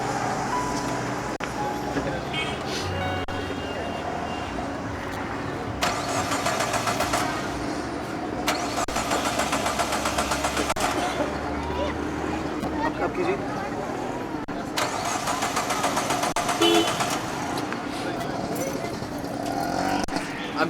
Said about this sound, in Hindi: मेरी गाड़ी स्टार्ट नहीं हो रही, शायद कचरा आ गया है।